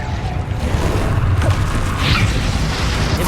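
Confringo blasting spell explosion in the Hogwarts Legacy video game, a sustained low boom and crashing rumble with a brief bright burst partway through, loud and continuous.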